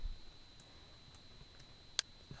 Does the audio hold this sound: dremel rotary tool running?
no